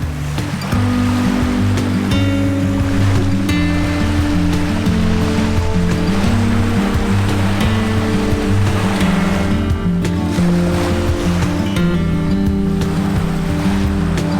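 Steady, loud surf rolls in continuously on a beach on Tablas Island, Philippines, a broad wash of breaking waves with a low rumbling undertone and no voices.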